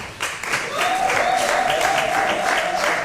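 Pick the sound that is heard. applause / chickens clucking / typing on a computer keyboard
applause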